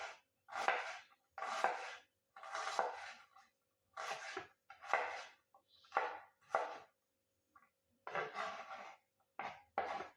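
Onion being cut crosswise on a board for pulao, a run of distinct knife strokes and rubbing cuts in close, uneven bursts, clear and alone with no talking.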